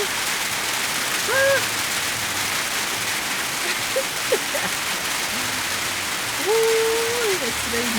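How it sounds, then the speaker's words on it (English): Steady rain falls in a broad, even hiss throughout, close and fairly loud, with a few faint distant tonal calls drifting over it. "Ooh, it's raining."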